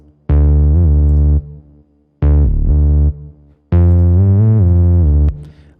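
A synthesized bass line with legato glides plays in three loud, sustained phrases separated by short gaps, notes sliding smoothly into one another in a beat.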